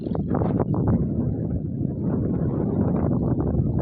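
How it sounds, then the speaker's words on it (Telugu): A tractor engine rumbles close by in a farm field, a dense, continuous low chugging throb with rough wind-like noise over it. "ట్రాక్టర్ బ్యాక్ సైడ్ వస్తూ ఉంది"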